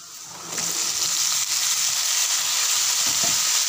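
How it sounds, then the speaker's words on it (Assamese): Chopped mixed vegetables dropped into hot oil in a frying pan, the sizzle jumping up sharply at the start and then holding a loud, steady hiss with faint stirring. "ইয়াতে মই এতিয়া কাটি থোৱা সবজিখিনি দি দিম"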